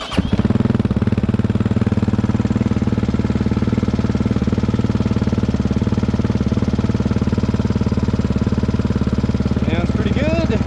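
2022 GPX FSE300R motorcycle fitted with an aftermarket ECU, its engine firing up abruptly and settling into a loud, steady, close idle with a fast rhythmic chug throughout.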